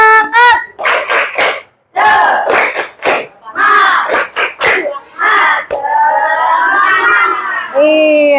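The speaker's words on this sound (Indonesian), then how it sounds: "Coba tepuk semangat dulu deh" Schoolchildren perform the 'tepuk semangat' spirit clap, loud rhythmic bursts of clapping mixed with shouted chant syllables from a close group, ending in a long drawn-out collective shout.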